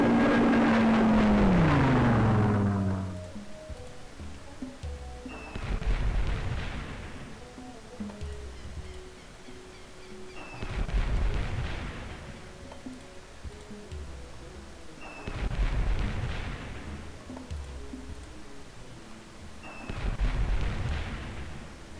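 Panzer tank attacks and artillery fire in Civilization III, a series of heavy booming blasts with rumbling decay, repeating roughly every five seconds against a low background.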